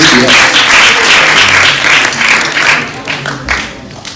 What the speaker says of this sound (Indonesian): Tepuk tangan buat Pak Vindi dulu nih, dan Miss Dia